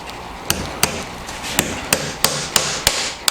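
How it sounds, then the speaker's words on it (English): Hammering a nail into the end of a wooden board, about nine sharp, evenly spaced close strikes that grow slightly quicker toward the end. "you can hammer in"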